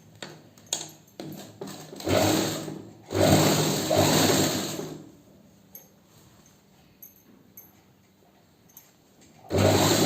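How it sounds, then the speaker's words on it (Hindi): Sewing machine stitching fabric runs in a few bursts, with short whirring runs separated by quieter pauses and small clicks from handling the cloth, close by and without talk. "अब इसको बराबर करके हम सिलाई लगा लेंगे इस तरह से यहाँ पे"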